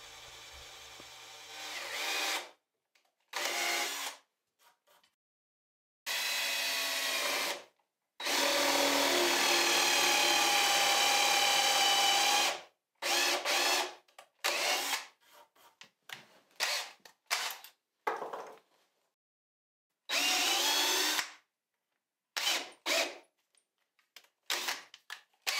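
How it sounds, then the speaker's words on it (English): Power drill fitted with a countersink bit boring screw holes into wooden cleat stock, running in several short whirring bursts with longer runs near the middle, separated by quiet pauses and handling noise. "drills the screw holes first using the countersink bit on the drill"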